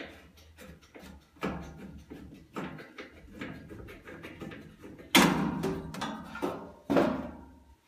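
Removing a furnace access panel and its thumb screw to reach the blower motor: a series of close metallic clicks, taps and rattles with two louder clanks as the sheet-metal panel shifts, no talking.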